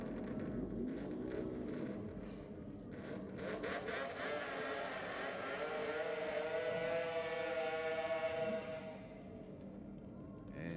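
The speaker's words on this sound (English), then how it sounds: "Shane coming down there on the two-stroke" Two-stroke drag racing motorcycle passing on Sydney Dragway, a loud high-revving engine whine sweeping up and then dropping away as it goes by, with no talk over it.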